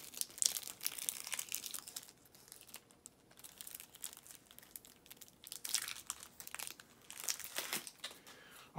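Wrapped card packs for the Anno 1800 board game being opened by hand, close crinkling and tearing of plastic wrap in repeated bursts with short quiet gaps between them.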